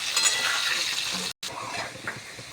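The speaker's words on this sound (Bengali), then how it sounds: "আলু ভাজার সময় আমি সামান্য নুন আর একটু হলুদ দিয়েছি।" Potatoes fry in oil seasoned with salt and turmeric, a close, bright sizzle with stirring scrapes over about two and a half seconds, broken by a brief silent gap.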